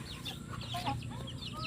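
Farmyard chickens, including a hen that has not laid eggs, cluck and chirp softly in short, irregular calls close by, over a steady low background rumble.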